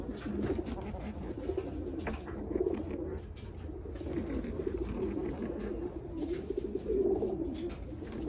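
Pigeons coo steadily at close range, soft throaty repeated calls overlapping one another over a low background murmur, with no talking.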